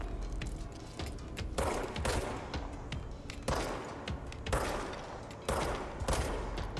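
Gunfire in the video game Control, repeated loud bursts of automatic shots arriving every second or so in close succession, with no talking.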